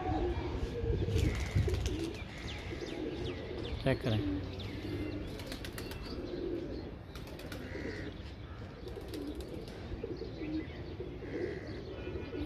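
Pigeons coo softly amid a few bursts of wing flapping, with someone speaking briefly over the outdoor background.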